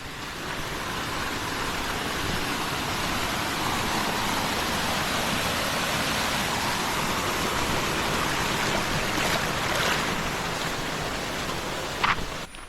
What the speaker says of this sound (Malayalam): ഇപ്പം ഉള്ള അരുവിയിലെല്ലാം വെള്ളമായി.